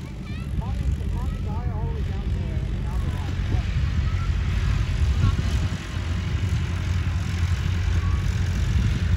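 A tractor rolls toward a fruit-picking farm field with a continuous low, rumbling engine drone, while voices talk over it early on.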